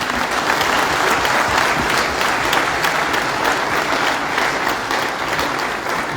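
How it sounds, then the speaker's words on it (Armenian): A large crowd at a political rally applauds loudly and steadily, with dense sustained clapping that continues unbroken throughout. "ես խնդրում եմ ծափահարել"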